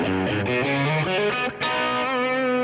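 Overdriven electric guitar plays a quick run of gritty, distorted notes and chords through a Deluxe Reverb-style amp with drive engaged, loud and continuous with no talking.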